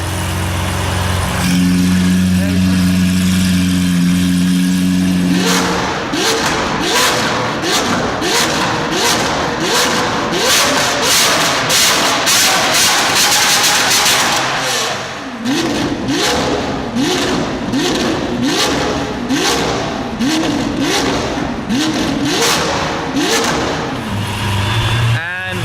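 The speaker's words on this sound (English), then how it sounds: "One very, very noisy Aventador SV is now parked in the garage" A Lamborghini Aventador SV engine idles deeply indoors in a garage, then roars through a series of sharp revs with crackling pops, loud and close, repeated in rapid bursts.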